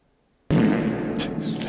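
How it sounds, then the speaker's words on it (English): A sudden close fart breaks the silence, a loud low buzzing rasp that sustains for over a second, with brief noisy bursts near its end. "The fart it's a little farty in here today."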